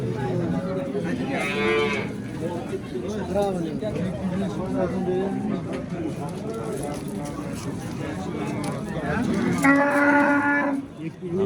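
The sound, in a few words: cow mooing at cattle market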